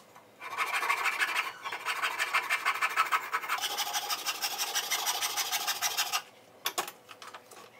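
A woodturning lathe parts off a wooden spinning top with a steady, close rasping scrape that lasts about six seconds and then stops, followed by a few brief knocks.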